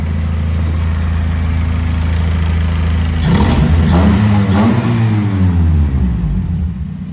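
A Honda K-series car strapped to a dyno with its exhaust open idles with a loud, steady drone, then revs up hard with rising and falling engine sweeps before settling back.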